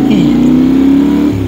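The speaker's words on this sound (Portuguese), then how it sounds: "E olha para este sonoro, eu não sei se vocês conseguem ter a percepção do barulho, mas com este escape à Krapovica" A Yamaha Tenere motorcycle fitted with an Akrapovic exhaust idles and revs loudly up close, a steady deep engine drone rising and settling over the whole moment.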